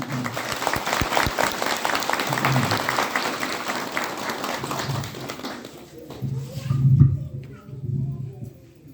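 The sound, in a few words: audience applause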